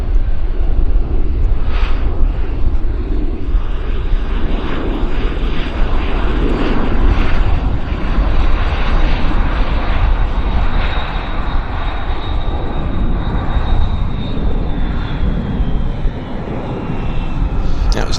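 Jet airliner landing at Vancouver airport and braking hard on the runway, a loud broad roar that holds steady throughout with a thin whine sliding downward near the end, heard at a distance.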